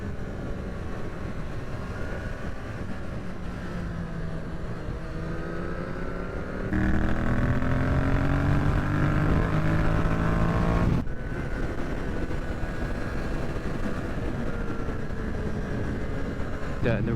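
A Triumph Street Triple 765 RS motorcycle engine drones steadily at speed, rising in pitch midway as it revs harder, then settling back, with rushing wind and occasional voice over it.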